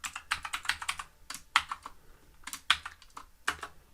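Code is typed on a computer keyboard in quick, uneven bursts of close, crisp key clicks with short pauses between them.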